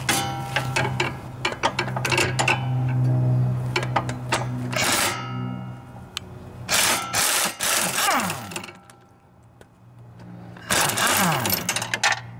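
A socket wrench with a short extension works on the motor mount bolts of a Briggs and Stratton Intek V-twin engine, giving bursts of rapid ratcheting clicks close by, broken by brief pauses and metallic clanks.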